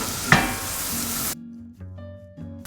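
Chopped onion with ginger and green chili sizzles loudly in a hot pan for egg bhurji, a bright, hissing fry with a stir, which cuts off abruptly midway, leaving a quiet hum.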